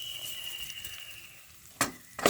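Green chillies and salt fry in a pan, a soft steady sizzle with a thin high tone running through it, then two sharp scraping clatters from stirring near the end.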